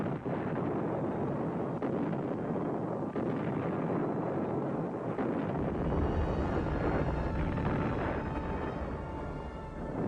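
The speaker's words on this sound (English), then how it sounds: "Spectacular rocket failures destroy American morale." Rocket failure explosion from the 1958 era: a continuous, loud broadband roar and rumble, steady throughout with a deeper low-end surge in the second half, no voices.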